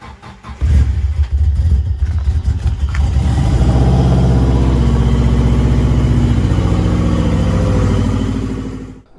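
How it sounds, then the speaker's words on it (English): An enduro motorbike engine coughs through a few start attempts, then catches and runs loud and close, holding a steady rough drone that fades slightly at the end. "this bike doesn't kick as it is, so we'll see how it goes and take a few tries"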